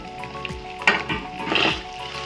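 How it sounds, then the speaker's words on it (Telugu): Chopped onions and tamarind fry in a pan with a steady close sizzle, broken by a few scraping stirs of a utensil against the pan. "ఉల్లిపాయలు వేస్తున్నానండి, కట్ చేసిన ఉల్లిపాయ ముక్కలు."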